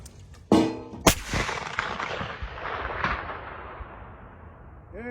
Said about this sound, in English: that explosion was massive, wasn't it?